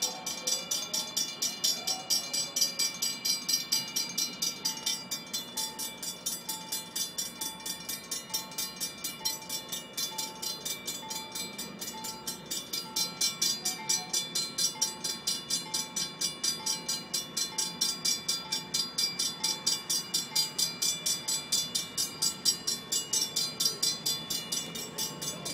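A Norfolk Southern freight train led by a Dash 9 locomotive rolls past, producing a steady rhythmic clatter of wheels over rail joints at moderate distance, continuous throughout, with no voices.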